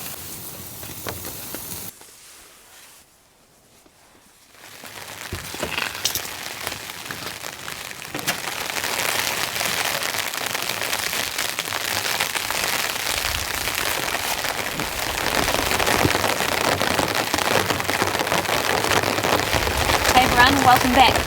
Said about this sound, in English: We're out on another camp and it's raining again.